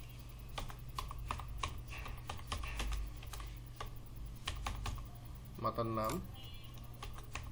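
Keys clatter on a computer keyboard in bursts of taps while someone fills in a rental form, heard under a person talking, with a brief clatter of other sounds near the end.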